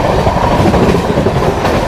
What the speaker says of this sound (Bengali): ইস্পাত এক্সপ্রেস একটু অল্প লেটে চলছে,